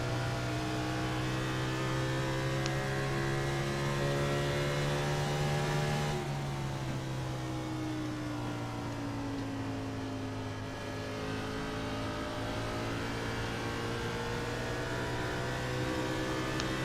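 A NASCAR Cup Series race car engine in a racing video game holds a loud, steady harmonic drone. The pitch dips midway as the throttle eases, then climbs again as it accelerates.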